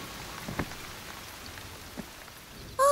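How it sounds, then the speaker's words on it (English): Light, steady cartoon rain patters softly on a surface in the children's show Fifi and the Flowertots, with a few scattered drops standing out before a sudden tonal sound cuts in at the end. "Pitter-patter raindrops."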